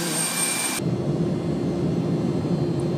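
A jet airliner's engines roar as a passenger boards a flight at Frankfurt International airport: a steady, loud, broad rumbling drone that becomes more muffled after a sudden drop in brightness near the start.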